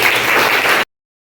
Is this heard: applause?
yes